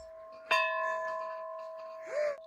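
A single church-style bell struck once, ringing out with a long sustained tone that slowly decays, then a second swell of sound near the end as it is rung again; fairly close, no talking.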